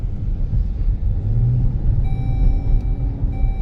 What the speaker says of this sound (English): You can see the gas engine kind of kicked in there.